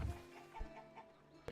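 Chickens clucking in the medieval city-building game Manor Lords, a short run of soft, close clucks and squawks with a brief sharper sound near the end.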